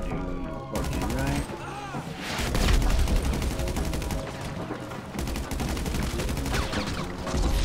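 Rapid bursts of gunfire in a GTA 5 Online shootout, sharp repeated shots in quick clusters with brief gaps, loud and close throughout, with some voice chat mixed underneath.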